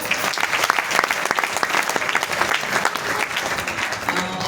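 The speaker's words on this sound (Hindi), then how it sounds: "आप सभी के लिए एक जोरदार ताली हो जाए।" Loud, sustained applause from an audience at a company event, dense clapping filling the whole stretch with steady intensity and a few scattered voices underneath.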